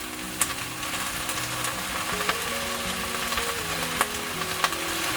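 Sea bass fillets, already pan-fried, go into a hot sizzling pot with onions and crispy fried tofu, giving a steady close frying hiss broken by a few sharp clicks and small clatters.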